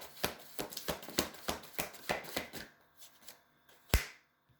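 Playing cards are shuffled in a rapid series of crisp riffling snaps, close and distinct, then a few softer slides as cards are drawn and laid down, ending with one sharp slap.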